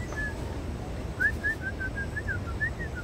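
A small bird gives a series of thin, wavering whistles that slide up and down in close succession, heard near and fairly clear over a steady outdoor rumble of wind.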